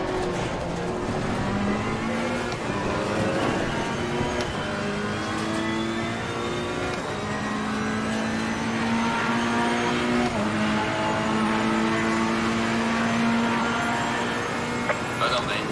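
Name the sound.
race car engine in video game Assetto Corsa Competizione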